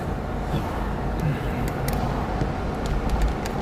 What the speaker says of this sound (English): There we can listen to the truck.